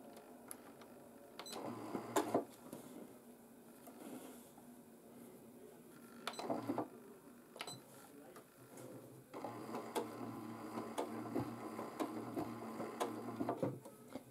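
A sewing machine runs at its slowest setting, its needle moving in a slow, mechanical patter of soft clicks and whirring bursts, quiet and close, with faint pauses between strokes.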